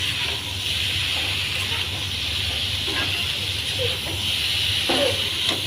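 Curry in a pan hisses and steams steadily as water is added, a continuous broad sizzle with faint clinks near the end.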